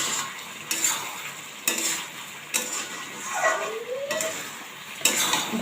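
Mutton frying in a pan with a little sugar, stirred with a utensil: a steady sizzle broken by about six sharp scrapes and knocks against the pan at roughly even intervals, close and fairly loud, with no voices.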